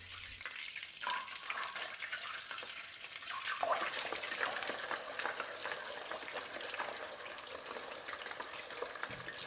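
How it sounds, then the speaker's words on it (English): Pork belly frying a second time in hot oil over high heat gives a dense, continuous crackling sizzle, loud and close, rising a little partway through and carrying on without any voices. "we're going to turn the heat up to high and fry the pork for a second time"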